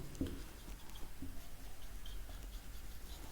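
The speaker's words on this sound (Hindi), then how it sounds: "मैं लिख देता हूँ" Faint scratching and tapping of a pen writing by hand during a lecture, soft irregular strokes close by with no talking.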